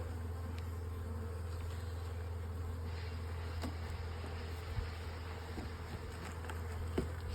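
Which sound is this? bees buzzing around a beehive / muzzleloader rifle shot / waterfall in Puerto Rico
bees buzzing around a beehive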